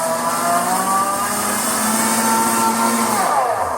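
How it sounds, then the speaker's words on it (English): A blender runs continuously while cooking and simmering a hidden-veggie marinara sauce, a loud, steady motor whine with a slight pitch drop near the end, no voices. "I'm just going to talk over the blender for a minute."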